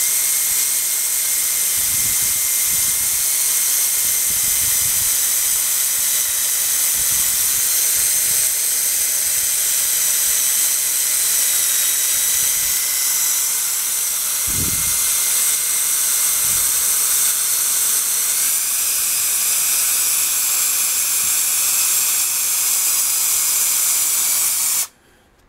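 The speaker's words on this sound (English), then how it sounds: "Next is just to drill the hole." A steady high-pitched drilling whine runs continuously for a long stretch, with faint knocks underneath, then cuts off abruptly at the end.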